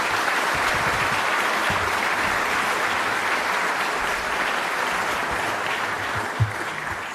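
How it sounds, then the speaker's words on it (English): Sustained audience applause for county legislators at a State of the County address, steady dense clapping filling the hall from start to finish with no talk. "Please give them a round of applause."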